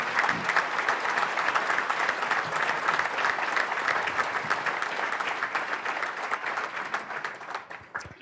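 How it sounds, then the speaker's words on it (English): At an anniversary forum dinner, a large audience claps in a sustained, even round of applause that thins out and fades toward the end. "please give him a big round of applause for him."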